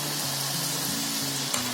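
Spicy mini shankarpali fry in hot oil with a constant close sizzle while a slotted spoon gently stirs them, its soft scrapes repeating over the bubbling and no one speaking.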